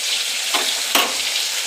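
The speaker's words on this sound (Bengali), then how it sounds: "মাছটা তেলে দিয়ে দিচ্ছি।" Fish sizzling loudly in hot oil in a pan as pieces are slid in one at a time, steady crackling frying with two sharper bursts as each piece hits the oil, no talking.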